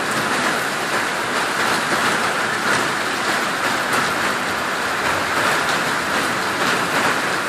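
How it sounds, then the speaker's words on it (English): Torrential rain pours down in a dense, steady roar over a flooded street and overflowing creek, loud and unbroken throughout. "I've never seen so much rain"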